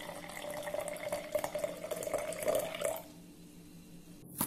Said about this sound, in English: Pour in a cup of the tea.